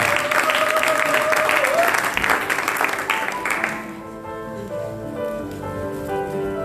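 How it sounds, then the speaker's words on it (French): A church congregation applauding together, a loud burst of clapping that thins and fades after a few seconds, with some voices and a tonal murmur underneath. "On acclame notre frère Steven."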